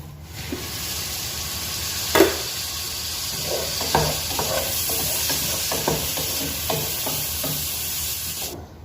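Masala sizzling in a pan for Mangalore-style crab curry, a steady frying hiss with scattered clinks and scrapes of stirring, one sharper knock early on, no talking.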